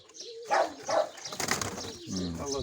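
Mykolaiv pigeons coo in soft, low, rolling calls at close range, with a brief flutter of wings partway through.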